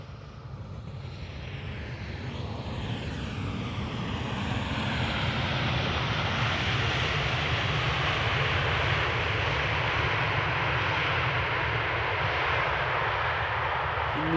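An airliner lands at Amsterdam Schiphol and deploys its thrust reversers, a steady, loud broadband engine roar that swells over the first seconds and holds at full strength to the end, with no voices.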